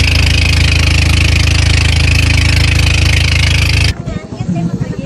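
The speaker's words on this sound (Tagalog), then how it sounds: "Nakikinig lang din kami sa tunog nga ng motor habang nakatingin nga sa tubig." Motor of a passenger boat running with a steady, droning hum for about four seconds, then cutting off abruptly into quieter, uneven background noise.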